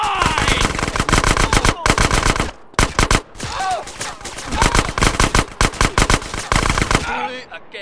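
Rapid automatic gunfire from GTA San Andreas rattles loud and close in long bursts with short gaps, mixed with game voices.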